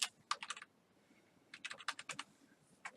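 Computer keyboard typed on in two short bursts of quick, fairly faint keystrokes, separated by a brief pause, with no talking.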